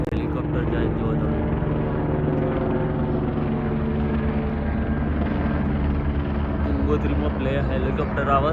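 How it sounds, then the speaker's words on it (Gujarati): A helicopter flies over Gangotri in the Uttarakhand mountains, its loud, steady rotor drone filling the air continuously, with voices faintly under it. "ગંગોત્રીમાં હેલિકોપ્ટર આવે છે જો તમે."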